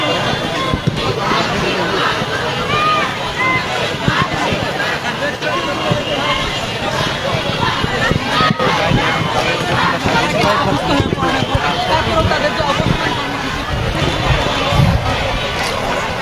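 Seated protesters chant slogans as a large crowd at a street demonstration, a dense, continuous roar of voices with rhythmic swells, while a reporter talks over it.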